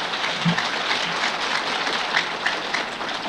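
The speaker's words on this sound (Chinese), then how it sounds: "六百个人这鼓掌的声音啊" Audience of around six hundred applauding at a Buddhist dharma talk, a steady, moderately loud wash of clapping that holds evenly for a few seconds.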